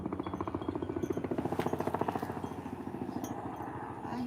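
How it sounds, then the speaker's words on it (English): A rapid rhythmic thudding chop, like helicopter rotor blades, pulses steadily overhead, swelling slightly louder then easing off. "I hear a helicopter."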